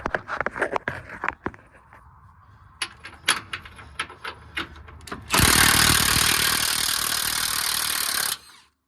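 Milwaukee impact wrench removing a bolt from a 2017-2019 Ford Super Duty truck axle, with clanks and short mechanical bursts first, then a loud sustained whirring hammer lasting about three seconds before it cuts off.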